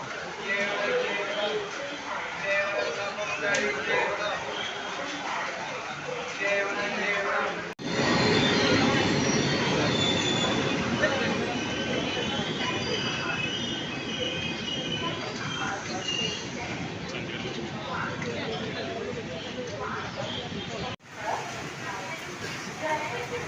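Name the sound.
train arriving at a station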